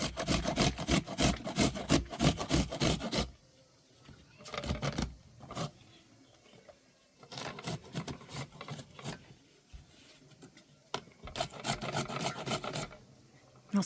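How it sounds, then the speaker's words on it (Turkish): An onion rubs across the finest grater in rapid rasping strokes, close and loud, coming in bursts separated by brief pauses, with no talking over the scraping. "Şimdi de şunları rendeleyeceğim dostlar. En ince rende."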